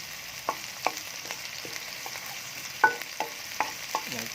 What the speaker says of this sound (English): Just give a good stir in there